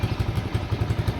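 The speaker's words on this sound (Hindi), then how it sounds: "मैंने बाइक स्टार्ट कर ली है" A motorbike engine idles close by with a steady, rapid low putter and faint mechanical clatter throughout, and no one talks.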